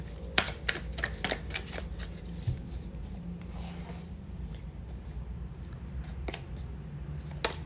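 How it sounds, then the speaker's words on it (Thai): Tarot cards are shuffled and picked during a reading, giving repeated crisp riffling and flicking bursts in an uneven rhythm, close and moderately loud over a steady low background hum. "เราเลือกไพ่สักครู่นะคะ แล้วเดี๋ยวเรามาฟังคำตอบไปพร้อม ๆกัน"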